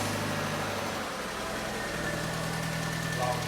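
A 2011 Fiat 500 idling steadily with a slight exhaust manifold blow, a close, even low engine drone that holds throughout.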